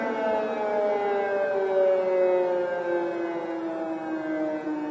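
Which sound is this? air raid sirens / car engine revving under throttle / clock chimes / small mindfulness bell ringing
air raid sirens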